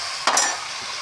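Onions sautéing in a pan, with a sudden burst of sizzling and a scrape or clank near the start that quickly fades to a soft, steady frying hiss.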